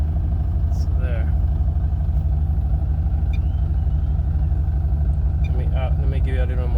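Close up, a car engine idles with a steady, pulsing low rumble while a FuelTech FT450 ECU adjusts its idle. A person talks briefly over the engine noise.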